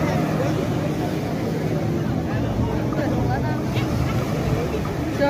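A jet ski engine drones steadily at a Tanjung Benoa water sports spot in Bali, a constant low rumble heard from a moderate distance with faint crowd chatter mixed in.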